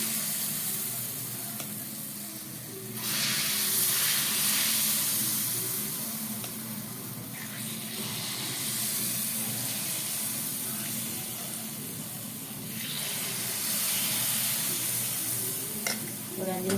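Sweet kuzhi paniyaram batter frying in hot oil in a pan, giving a steady close sizzle and hiss that swells in bursts, with faint talk in the background.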